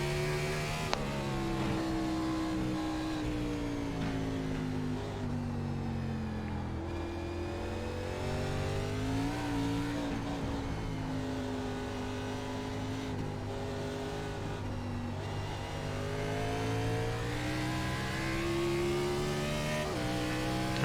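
A NASCAR Cup race car in a sim racing game on the Charlotte Roval, its engine droning steadily and revving through repeated upshifts and downshifts, the pitch rising and dropping over a continuous loud roar.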